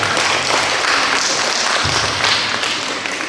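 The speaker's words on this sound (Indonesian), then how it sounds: "Tepuk tangan Pak." Audience applause at a Project Citizen presentation, a dense burst of many hands clapping close by that holds steady for a few seconds.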